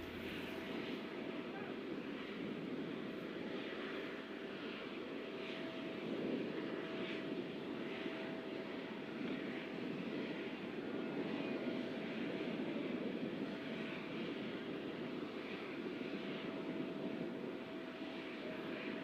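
A steady, droning airplane engine as the aircraft carrying India's Prime Minister arrives for an official visit, a broad continuous roar at moderate distance that holds evenly throughout.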